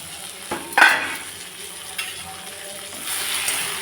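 Tomatoes sautéing in a pan for mutton and potato curry give a soft, steady sizzle with a sharper scrape or clatter near the start and a brighter hiss toward the end, close by and with no talking.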